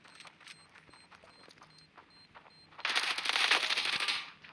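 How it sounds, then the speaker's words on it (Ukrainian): Gunfire in the mobile shooter Standoff 2: sparse light clicks and shots at first, then a dense burst of rapid automatic fire that fades at the end, fairly faint overall. "Та я почав у нього стріляти."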